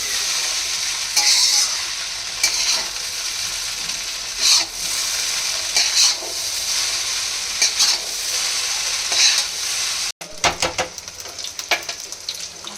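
Fish frying in a hot pan at home, a steady loud sizzle throughout with occasional stirring and scraping clatters, then a brief cut and more irregular crackling pops.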